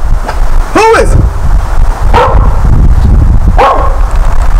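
A dog gives three separate barks, spaced over a few seconds, against steady background noise and faint voices.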